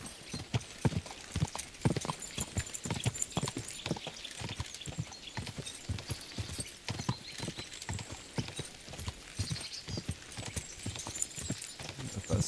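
Horse hooves clip-clop steadily in the video game Kingdom Come: Deliverance II, with a rapid, continuous rhythm of close, crisp hoofbeats throughout.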